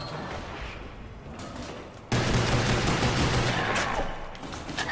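Gunfire from shooting zombies in Call of Duty's Ascension zombies map, a dense continuous burst of shots that swells louder partway through and stays loud and close.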